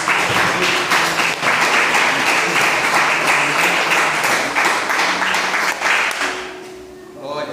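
A church congregation applauds loudly during a Portuguese-language worship service, with sustained dense clapping and crowd noise that fades near the end as a voice comes back in.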